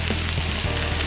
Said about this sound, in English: Now, as the fish starts to cook, you'll notice that the edges will start to brown.